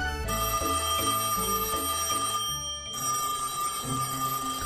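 A telephone rings repeatedly in a Bengali cartoon, its bright electronic trill pulsing in steady bursts over a backing music track, with a short pause before the ringing resumes; no one speaks.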